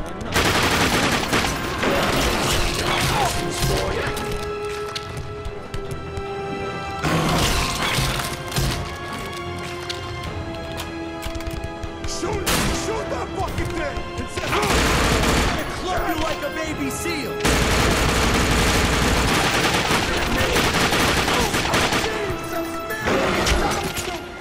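Dense, loud gunfire in the video game The Darkness 2, with rapid automatic bursts and crashing impacts that go on almost without a break, briefly dipping between volleys.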